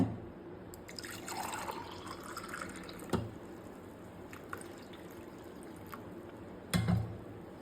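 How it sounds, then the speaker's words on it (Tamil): Strained ABC juice is poured into a tumbler, making a soft liquid stream with a rising, filling tone close by, followed by a few quiet drips and light clinks. "ஜூஸ் நல்லா வடித்தாச்சு. இதை ஒரு டம்ளரில் ஊற்றிக்கிடுங்க."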